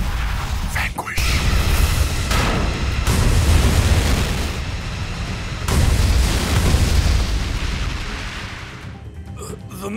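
Loud cartoon explosions burst one after another as enemy missiles are destroyed in an animated superhero battle, dense booming blasts filling the scene with a brief lull between volleys.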